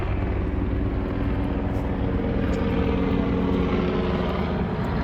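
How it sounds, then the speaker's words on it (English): A steady, loud rotor and engine roar of a helicopter fills the scene continuously without a break. "Wait for the helicopter to go over."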